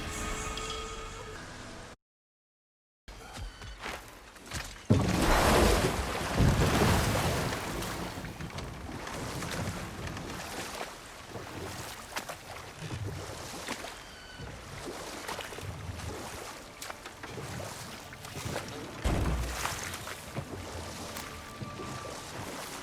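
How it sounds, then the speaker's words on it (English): Steady broadband rushing of a waterfall in the Vanaheim realm of God of War Ragnarok, loud and continuous with wind-like swells, following a brief silent gap near the start. "Waterfall."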